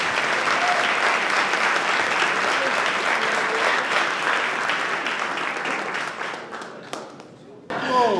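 Audience at a benefit concert applauds performers with sustained, dense clapping that stays loud and steady, then thins out and fades near the end before a brief final burst.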